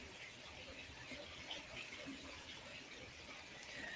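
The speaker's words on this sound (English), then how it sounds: "let's focus on the sound of this waterfall behind me. This flow of water." A waterfall flows in a natural outdoor setting, a faint, steady wash of rushing water that continues evenly without a break.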